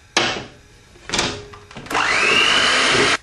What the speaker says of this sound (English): And whisk again.